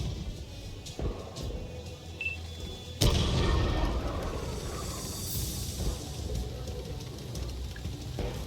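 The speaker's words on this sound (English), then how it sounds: "there's the artillery" Artillery fire in the World of Tanks video game: a sharp, loud boom about three seconds in, followed by sustained rumbling battle noise and scattered impacts under a dense game soundscape.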